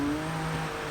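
Ford GT Le Mans race car engine in Forza, a steady loud exhaust drone holding a constant pitch, close and continuous with no talk.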